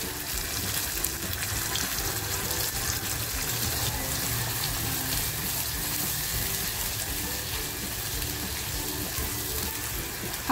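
Raw onion masala fries in plenty of hot oil in a kadai, a continuous dense sizzle at even loudness throughout, with no talking.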